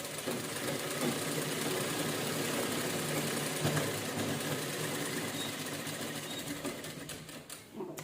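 A sewing machine runs around the edge of an old towel, a fairly quiet continuous motor whir with fast needle chatter, steady throughout and easing off briefly at the end.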